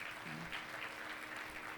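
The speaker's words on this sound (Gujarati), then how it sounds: "આમાં જેણે સેવા કરી છે બધાને એકવાર તાળીઓના નાદથી વધાવીએ" A crowd gathered at a temple idol-consecration festival applauds volunteers with steady, dense clapping. It sounds a little distant and lasts briefly.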